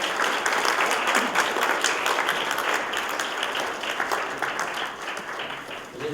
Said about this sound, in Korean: 우리 다 같이 박수 한번 칩시다